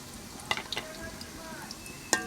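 Onions frying with chicken pieces for an 8 kg chicken roast make a quiet sizzle, with a few sharp clinks of stirring over a couple of seconds.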